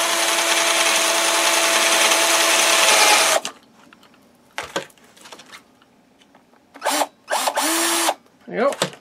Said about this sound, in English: I'm just going to first drill a hole through here to get that done.